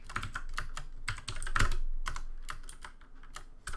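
Close computer keyboard being typed on while entering code, with quick irregular keystrokes in short bursts and brief pauses and no talk.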